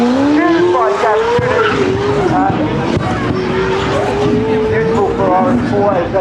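Supercars, including an NSX and a Ferrari 488, launching at a car show with a loud, continuous engine roar that rises and holds alongside sustained tire squeal, crowd noise running underneath.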